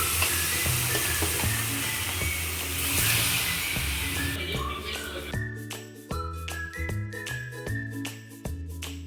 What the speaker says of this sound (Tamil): நம்ம இந்த கொழுப்பில் எண்ணெயை தயாரித்து